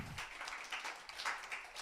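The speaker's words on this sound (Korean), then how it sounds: "박수하고 마치도록 하겠습니다" A church middle-school youth group claps to close a Sunday service, producing a fairly soft, continuous wash of hand claps that swells and dips slightly throughout.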